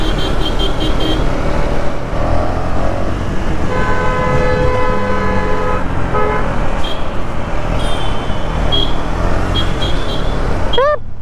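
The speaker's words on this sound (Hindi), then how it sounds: "अरे भाई कितना हॉर्न बजाते हैं यार।" Several car horns honk in busy traffic, some long and some short, over a loud continuous roar of engines and road noise.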